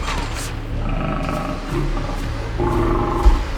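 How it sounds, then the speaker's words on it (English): A lion roars and grunts close by in a steady, rumbling series over roughly three and a half seconds, loud and deep, with no clear speech over it. "There is nothing between us and this lion right now."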